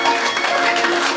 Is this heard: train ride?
no